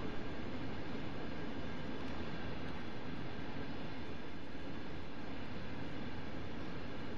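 A Union Pacific ES44 diesel locomotive running in Train Sim World 2, a loud, continuous rumbling drone with steady rail noise and no pauses.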